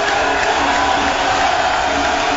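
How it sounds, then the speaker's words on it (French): In a packed hall at a Côte d'Ivoire ceremony honouring the president, a crowd roars in a dense, steady wash of cheering and chanting that fills the space without a break. "L'ambiance était survoltée dans la salle avec des chants et des acclamations"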